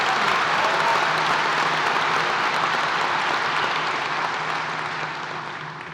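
Sustained audience applause fills a university business school award ceremony, a dense, steady wash of many hands clapping that holds loud throughout before tapering off slightly at the end.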